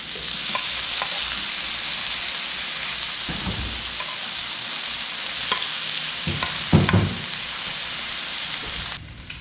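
Slices of samgyupsal pork belly sizzling in a pan for a Filipino-style home meal: a steady close crackling hiss with scattered louder pops and spatters, and no voices.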